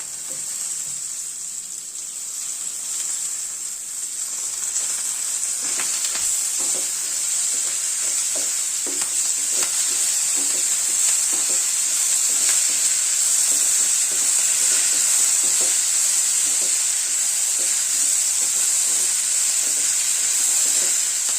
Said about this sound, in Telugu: ఇందులో కరివేపాకు కూడా వేసి వేయించాలి